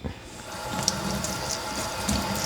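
Running water from a tap soaks an old shirt used as a strainer for almond milk, a steady close splashing rush with slight gurgles throughout.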